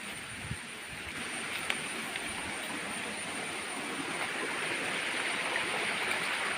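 Water runs steadily along a farm irrigation channel where freshly harvested elephant foot yams are brought to be washed, a continuous broadband rushing wash close by with no talk.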